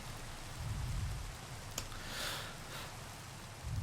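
Rain in the Minecraft JurassiCraft mod, a faint, steady patter of game rainfall with a soft low rumble and a single brief tick partway through.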